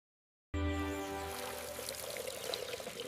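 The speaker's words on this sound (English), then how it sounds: "I water the flowers." Water pours steadily while flowers are watered indoors at home, beginning abruptly after a short silence and continuing as a close, even stream with no talk.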